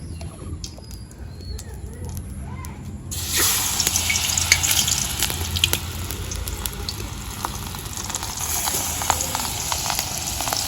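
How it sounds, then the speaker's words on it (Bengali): Ash gourd pieces dipped in gram flour batter drop into hot oil in a wok, setting off a loud, steady sizzle and crackle that rises sharply after a few quiet seconds and continues close up. "বেসনের মশলার ভিতরে চুবিয়ে আস্তে আস্তে করে ছেড়ে দিচ্ছে কড়াইয়ের ভিতরে।"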